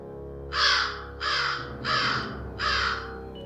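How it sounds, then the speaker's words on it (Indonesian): Crows cawing, four loud harsh calls in a steady series, each about half a second long and fairly close, over a faint low background hum. "Burung-burung berterbangan, salah satunya adalah burung pembawa pesan yang baru saja tiba."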